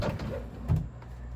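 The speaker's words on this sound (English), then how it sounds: "slide the drawer in with the other" A bottom drawer of a Samsung refrigerator slides back into place, a brief low scraping rumble ending in a soft close thump.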